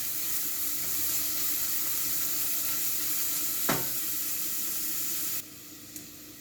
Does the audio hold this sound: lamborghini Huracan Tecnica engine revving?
no